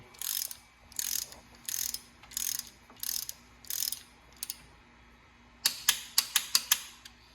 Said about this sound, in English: So we're going to just torque this down so we're ready to go.